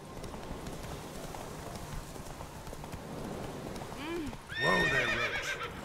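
Roach the horse galloping in The Witcher 3, rapid hoofbeats under steady game ambience, then a loud whinny near the end.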